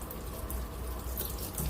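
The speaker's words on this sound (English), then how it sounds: "You need to wash these aloe vera pieces and dip it in water for few minutes." Pieces of aloe vera are rinsed under a running kitchen tap, giving a steady close rush of water splashing into a sink with no talk.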